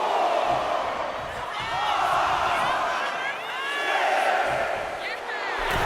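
Arena crowd in the WWE 2K25 wrestling game during a Last Woman Standing women's match, a steady roar of cheering and whoops swelling and dipping continuously under a commentator's talk.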